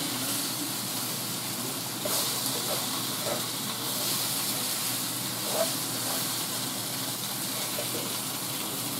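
Pork chops sizzle in butter in a pan, a steady, moderately loud hiss with faint scattered pops running through the whole stretch, with no talk.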